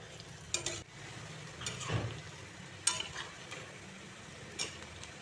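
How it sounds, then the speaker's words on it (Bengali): Two dried red chillies fry in hot oil with a soft steady sizzle, a few light stirring scrapes and utensil clicks over it, close by and fairly quiet. "সঙ্গে 2টি শুকনো লঙ্কাও ভেজে নিচ্ছি। একদম লাল লাল করে ভাজবো।"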